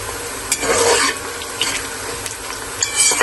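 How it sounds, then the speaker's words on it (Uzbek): Onions fry in a pan for plov while a spoon stirs them, giving a close, crackling sizzle broken by repeated scraping strokes, with no voices. "piyozim qovurilib chiqdi, ko'rdinglar"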